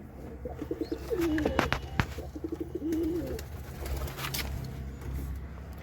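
Pigeons, red and white-headed red birds kept for breeding, give several soft throaty coos close by, rolling phrases repeating over a rough background with faint knocks and rustles.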